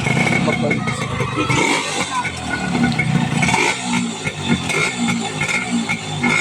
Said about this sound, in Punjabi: ਲੋ ਜੀ ਸਟਾਰਟ ਤਾਂ ਮਿਸਤਰੀ ਜੀ ਵੱਲੋਂ ਕਰ ਦਿੱਤਾ ਗਿਆ ਹੈ ਮੋਟਰਸਾਈਕਲ